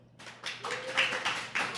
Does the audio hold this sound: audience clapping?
yes